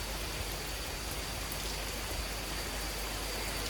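A sun shower over a forest temple in Luang Prabang gives a steady, even hiss of falling rain that continues without a break.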